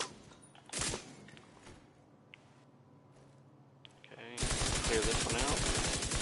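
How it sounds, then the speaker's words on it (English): Gunfire aimed at a target in The Division 2 bursts in after a quiet stretch of faint game ambience, turning into loud, sustained rapid shooting to the end. "But I had to shoot at the target several times."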